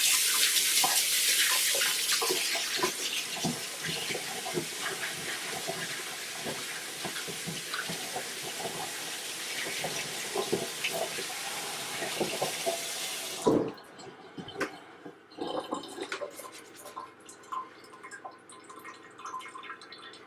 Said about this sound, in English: Let's wash my hands off again.